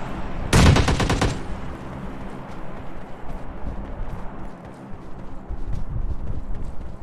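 A UMP submachine gun fires in the mobile game PUBG Mobile Lite, a single short, loud rapid burst near the start, followed by steady in-game ambient noise.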